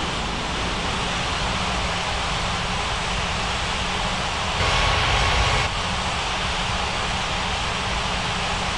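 A broad, steady roar of airliner jet engines at takeoff power in an air traffic control game set at Ngurah Rai Bali International, loud and unbroken throughout with a brief surge midway.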